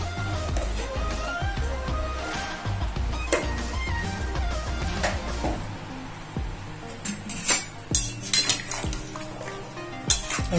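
Salt being stirred into shukto, a traditional Bengali vegetable dish, in a pan: a spoon clinks and scrapes against the metal in a steady, busy rhythm, close and fairly loud, with light sizzling beneath and no talk.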